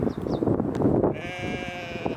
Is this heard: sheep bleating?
yes